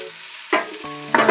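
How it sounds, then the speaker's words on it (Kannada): Ginger garlic paste, tomato, onion, green chili and curry leaves hit hot oil in a pan, giving two loud, close bursts of sizzling frying with stirring and no talk. "ಅವಷ್ಟು ಇದ್ರಾಗ ಹಾಕ್ಕೊಂಡು ಸ್ವಲ್ಪ ಫ್ರೈ ಮಾಡ್ಕೋಬೇಕು"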